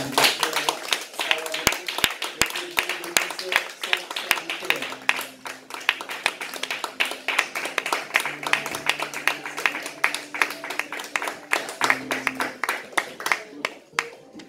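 A church congregation claps and applauds to welcome a preacher at a Sunday service, dense steady clapping filling the room throughout, with a voice speaking over it.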